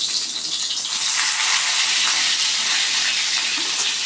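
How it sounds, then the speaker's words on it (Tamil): Fennel, ginger and onion sautéing in a pan, a dense continuous hiss and crackle of hot oil, loud and close with no talking. "இஞ்சி எல்லாத்தையும் போட்டுட்டு நல்லா வதக்கிக்கலாம்"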